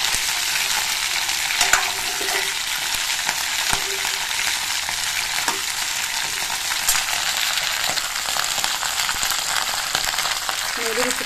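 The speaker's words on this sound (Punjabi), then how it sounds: "ਹੁਣ ਵੀ ਇਹਦੇ ਵਿੱਚ ਪਾ ਦਿੰਦੇ ਆਪਾਂ ਇਹ ਉਬਲੇ ਹੋਏ ਔਲੇ" Boiled amla frying in hot oil for a pickle, a loud continuous close sizzle that runs throughout with occasional faint clinks of stirring.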